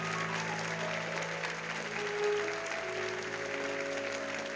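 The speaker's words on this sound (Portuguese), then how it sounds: "E aqueles que creem, aplaudam o Senhor com toda a sua força" A church congregation applauds, a dense and steady wash of clapping that holds at the same level for several seconds, with a faint low hum beneath it.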